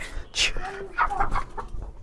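Chickens cluck in short, uneven bursts close by, with a few sharper squawks mixed in.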